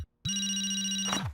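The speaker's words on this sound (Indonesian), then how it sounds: "Kartu ucapan musikal." In a cartoon, a musical greeting card opens with a brief silence, then plays a bright, sustained electronic tone with ringing overtones that holds for about a second before cutting off.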